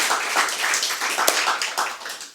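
Audience at a farce performance claps steadily for a couple of seconds, a dense crowd patter with one sharper clap standing out midway.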